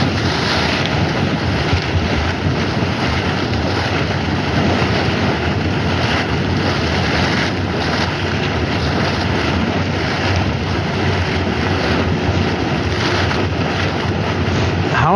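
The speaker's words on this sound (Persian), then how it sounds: "هر 12 دقیقه به مدت 3 دقیقه آب میپاشه" A sulfurous natural spring shoots out water in a strong jet, making a loud, unbroken rushing roar, like wind and surf, that holds at the same level throughout with no voices over it.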